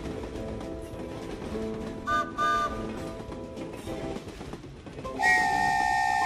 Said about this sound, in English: The train is running again.